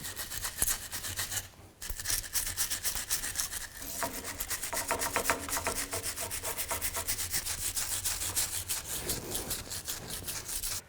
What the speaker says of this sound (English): I'm just going to take a wire brush, just try to clean up some of the rust